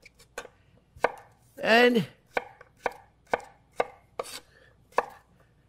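Knife chopping vegetables into dice on a cutting board, with a run of sharp, evenly spaced close strikes and one longer scraping sweep in the middle, heard alone.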